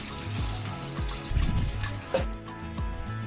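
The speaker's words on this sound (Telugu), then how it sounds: "నత్త ముక్కలు బయటికి తీసుకున్న తర్వాత మళ్ళీ నీట్గా 2-3 సార్లు కడుక్కోండి." Snail pieces are rinsed in water for an Andhra-style snail curry, with splashes, sloshing and trickling in short bursts close by and no talk.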